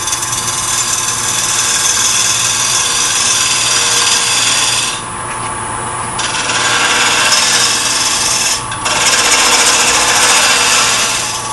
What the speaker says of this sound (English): Turning down my glue block a little bit.